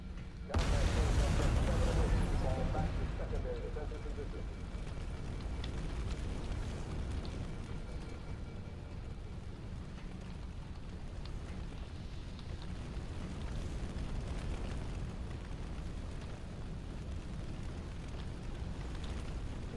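Steady roaring rush of fire burning inside a damaged, scorched ship in Halo CE Anniversary, a loud burst at the start settling into a continuous broadband crackle and whoosh with no voices.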